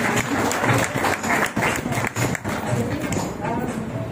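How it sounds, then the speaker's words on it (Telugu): An audience in a church claps in a burst of applause, dense and fairly loud, with voices mixed in as the clapping carries on. "వాళ్ళందరినీ సమకూర్చి నేర్పినందుకు దీన్ని మరొకసారి చప్పట్లు కొట్టాలనుకుంటున్నాను"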